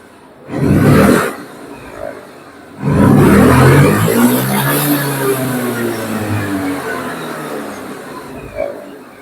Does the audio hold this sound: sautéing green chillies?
no